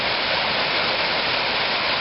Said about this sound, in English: And that's his waterfall.